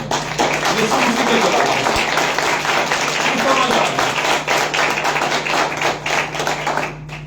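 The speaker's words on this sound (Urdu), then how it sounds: "جنہوں سمجھ آ رہی ہے زوردار تالیاں" A congregation bursts into loud, sustained applause at a church sermon, a dense wash of clapping that holds steady for several seconds before tapering slightly at the end.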